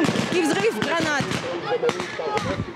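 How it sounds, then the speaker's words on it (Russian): Sharp explosive grenade bangs and pops crack out amid a busy military battle reenactment, with someone talking over the blasts and shouting in the background. "Вокруг свист, пух, дым и взрыв гранат."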